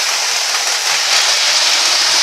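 A model HST train set runs along a model railway, giving a steady, close rolling rush with faint rhythmic clicking throughout and no voices.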